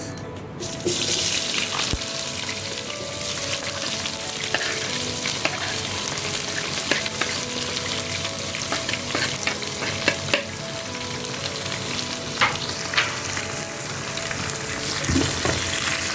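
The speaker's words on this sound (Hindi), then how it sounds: "चलिए जी, अब मैं डालूँगी इसमें प्याज।" Onions dropped into hot spices in a pan for aloo baingan, a loud, dense, continuous sizzle like rushing water, with a few clicks and stirring noises, no talk.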